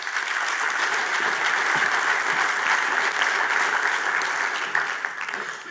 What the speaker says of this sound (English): pleased to give a big round of applause to today's keynote speaker